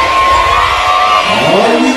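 Packed audience at a live concert in Boston screams and cheers loudly and continuously, a dense wall of crowd noise with high shouts throughout.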